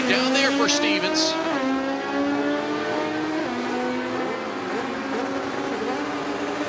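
Two drag racing cars launch side by side at a World Cup Final import-versus-domestic qualifying event, loud engines rising and shifting in pitch as they accelerate, with a faint tire squeal at the start.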